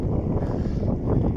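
Strong wind buffets the microphone during a bike ride in sunny, very windy summer weather after a downpour, a loud, continuous low roar with gusty swells and no talking.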